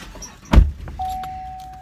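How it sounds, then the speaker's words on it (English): A car is unlocked with a single sharp click, followed by a faint steady electronic tone in a quiet outdoor setting. "I guess you need me to unlock the car"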